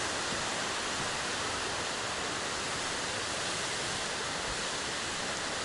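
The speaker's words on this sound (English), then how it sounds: "Probably one of the nicest waterfalls I've ever seen in my life." Ramona Falls on the Pacific Crest Trail pours in a loud, continuous broadband rush of falling water, close and steady with no voices.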